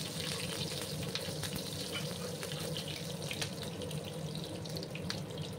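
Nigella seeds and chopped green chilies fry in hot oil in a pan with a loud, dense, continuous crackling sizzle that stays steady from start to finish, close up and with no talking.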